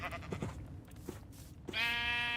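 A Minecraft sheep bleats in a modded vampire world, one clear wavering bleat rising near the end after quiet game ambience and soft clicks.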